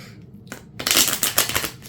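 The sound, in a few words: shuffling a deck of playing cards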